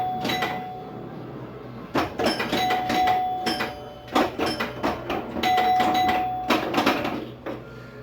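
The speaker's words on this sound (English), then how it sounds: "A little more gameplay and bells for you and chimes so you can hear it." A 1979 Brunswick Aspen pinball machine rings out loud, clustered bells and chimes in quick repeated bursts with clattering playfield hits between them during gameplay.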